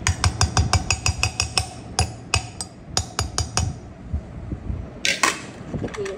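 Roasted brinjal, tomato and potato are mashed by hand for chokha, giving a run of sharp, rhythmic clinks and knocks of utensil on vessel that slows to scattered taps, then ends in a brief clattering burst.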